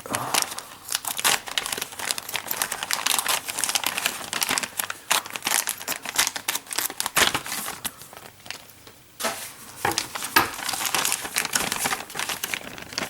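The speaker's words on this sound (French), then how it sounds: "il faut qu'on déballe les pièces" Parts of a 1/8-scale Eaglemoss Ecto-1 model kit are unwrapped, with loud, continuous crinkling and tearing of plastic packaging close up.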